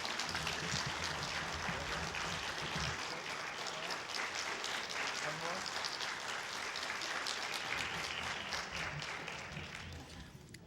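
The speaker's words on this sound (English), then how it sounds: "Let us please congratulate these wonderful students with another round of applause" Audience applause at an evening event honoring students, dense sustained clapping from a large crowd filling the room for about ten seconds before tapering slightly at the end.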